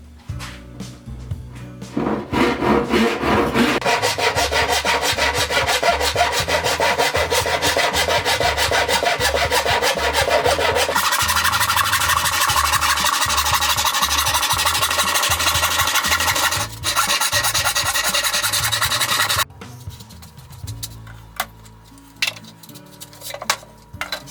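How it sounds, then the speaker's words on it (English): A hand saw makes a slow finished cut through a wooden board, with steady rasping strokes that run loud and close for most of the clip before stopping. "now I'm going to be making a finished cut, so I'm going to go a little slower"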